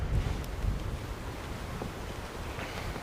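Wind blows steadily by the sea, a low gusty rush buffeting the microphone with a soft wash of waves beneath, continuous and fairly quiet with no voices.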